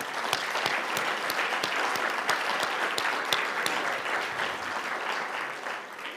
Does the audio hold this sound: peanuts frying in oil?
no